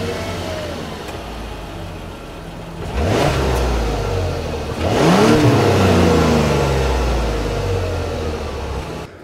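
A 2025 Mazda CX-70 engine idles, then revs up twice in loud, rising surges, each swell falling back toward idle, heard close with no talking.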